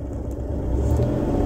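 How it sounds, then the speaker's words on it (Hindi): A car engine in first gear revs up steadily, a low rumbling drone rising slightly in loudness, close and heard alone without talk. "अब मैं रेस दूंगा"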